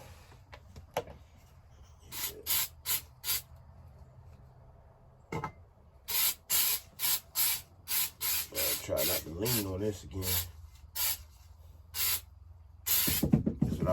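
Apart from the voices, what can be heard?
spraying bed liner coating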